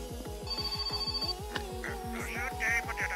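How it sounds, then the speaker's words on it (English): A telephone rings in the video game My Summer Car, a repeating electronic ring pulsing steadily over game background noise, with faint tonal chimes overhead. "Phone ringing."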